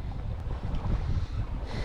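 Steady wind rush and water noise aboard a sailboat sailing solo, a continuous low roar close to the microphone with no talking.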